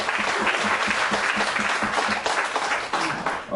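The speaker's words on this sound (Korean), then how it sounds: "우리 감사로 박수 다시 한번 하나님께 영광 돌려드립니다" A church congregation at a Sunday worship service applauds together, a dense, steady wash of many hands clapping close and fairly loud throughout, with no talking over it.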